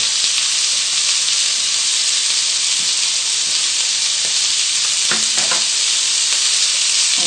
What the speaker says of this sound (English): just go around the pan, just roughly turning all the pieces, just to that the uncooked side just faces the heat